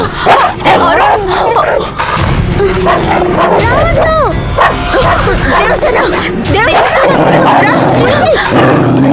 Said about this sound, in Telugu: ఎలా రాను? కుక్కుంది.